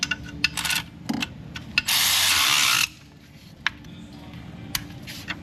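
Exhaust manifold bolts on a Chevrolet are tightened with a ratchet and wrench, giving sharp metallic clicks and taps, short scraping rubs, and one sustained second-long rasp of ratcheting, all close by with no talking.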